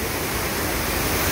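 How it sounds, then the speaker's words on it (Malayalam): Cheeyappara waterfall in Munnar pours with a steady, dense rushing roar that fills the whole moment, close and even, with no voices over it. "ചീയപ്പാറ വെള്ളച്ചാട്ടം ഉണ്ട്."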